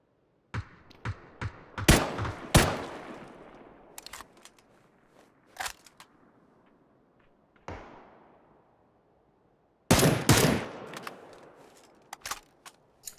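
Gunfire in the battle royale game PUBG on the Miramar desert map: a scatter of sharp, separate shots and bursts, some loud and close, others fainter, with quiet stretches between and no talk over them.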